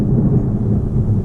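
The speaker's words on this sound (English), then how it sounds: "Did you guys hear that thunder?" Loud, deep rolling thunder during a storm, a sustained close rumble that fills the moment without any voices over it.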